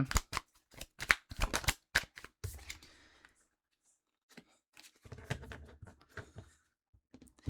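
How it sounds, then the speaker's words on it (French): Tarot cards are shuffled in quick, crisp riffling bursts, then after a short pause come quieter sliding and flicking sounds as cards are drawn, close and clear. "On va aller chercher une dernière carte"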